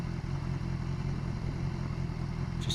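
A BMW S1000XR motorcycle engine idles steadily at a stop, a continuous low throbbing hum with no revving, alone with no voices.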